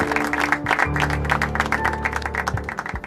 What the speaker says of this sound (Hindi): तालियों से स्वागत कीजिए